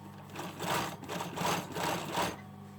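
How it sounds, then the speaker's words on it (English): A sewing machine topstitching a patch pocket onto a hoodie front for a twin-needle look, running in four short, even bursts of quick stitching, close and clear with no talking. "I'm just going to top stitch for a twin needle effect"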